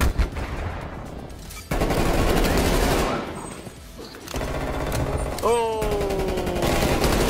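Automatic gunfire in the shooter Call of Duty Cold War, sustained loud bursts with short breaks and a sharp whizzing effect near the end, while a player talks over the action.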